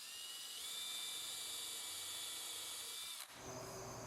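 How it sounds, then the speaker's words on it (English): A Vix bit spins steadily in a high, thin whine while drilling a pilot hole for a screw, then stops abruptly near the end and leaves a fainter hum. "Now we're going to use our VIX bit to put a pilot hole"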